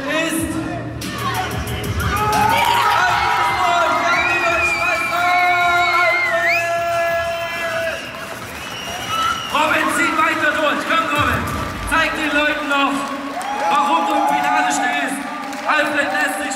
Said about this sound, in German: Riesen, riesen Applaus für Alfred